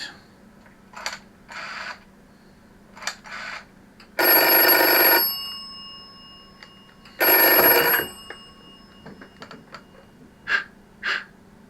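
A telephone rings twice in long, loud bursts, with soft clicks and small tones in the quiet gaps around them.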